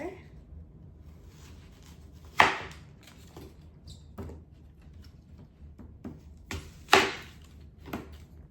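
A knife slicing a vegetable into thin slices, two crisp cutting strokes that stand out against a quiet background with faint lighter taps and rustles, close up.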